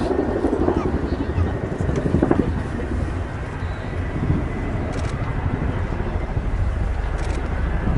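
A huge Chinook helicopter in a flying display at the Royal International Air Tattoo, RAF Fairford, its deep rotor throb and engine roar loud and sustained with wind buffeting, under a commentator's voice.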